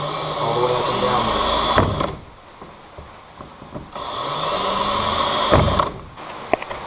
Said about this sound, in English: I'm just going to try to do some smaller holes all the way up and down